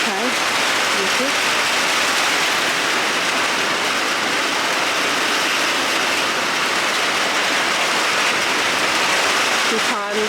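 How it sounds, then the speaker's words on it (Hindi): Steady morning rain falls outdoors amid gusty wind, a loud, unbroken hiss that fills the whole stretch. "सुबह सुबह बारिश तो हो रही है"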